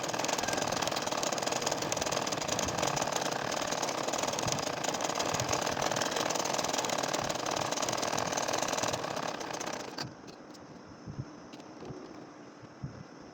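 A sewing machine stitching a curved nakshi kantha quilt design runs with a steady, fairly quiet mechanical whirr for about ten seconds, then stops, leaving faint handling sounds.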